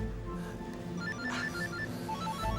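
A mobile phone rings with a repeating electronic melody, heard faintly from a short distance over a low background hum.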